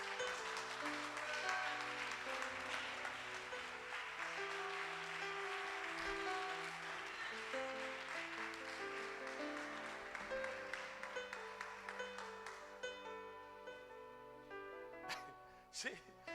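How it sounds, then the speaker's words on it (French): Dense applause rises from a worship congregation at a church service, strongest early and gradually thinning, over sustained keyboard chords that carry on beneath it throughout. "Acclamons le Seigneur"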